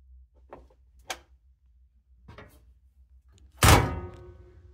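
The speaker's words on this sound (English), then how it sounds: "Open the lid." Lid of an old-style GE/Whirlpool/Kenmore top-load washing machine opened, with a few light taps and clicks followed by a loud close thunk near the end, heard up close with no talk.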